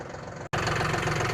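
A tractor engine idles nearby with a steady, low, even rumble, cut by a brief dropout partway through.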